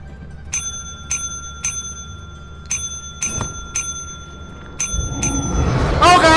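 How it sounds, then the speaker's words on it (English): A bright bell rung in a video game, struck about ten times in an uneven rhythm with clear ringing overtones, ending in a swell of rushing noise. "time to ring the bell"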